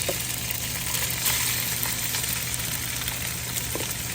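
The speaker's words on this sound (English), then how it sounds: "So you're gonna grab your beef and you're just gonna drop it in there." Beef pieces for broccoli beef sizzle steadily in a hot pan, a dense, even frying hiss that stays close and loud throughout with no voices.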